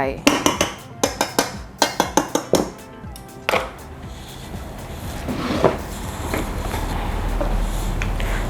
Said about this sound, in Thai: ไข่แดงนะคะคนก่อน คนผสมนะคะ